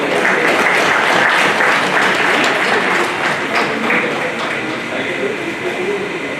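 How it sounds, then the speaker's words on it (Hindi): Audience at a retirement ceremony clapping loudly and steadily, a dense roar of applause that holds for several seconds and tapers slightly toward the end. "सुभाष पाल जी के लिए भी जोरदार तालियां।"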